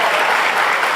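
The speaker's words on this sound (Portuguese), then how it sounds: "dá salva de palmas para a Joyce" A church congregation breaks into dense, loud applause honoring a woman during a service, steady clapping filling the whole moment with no pauses.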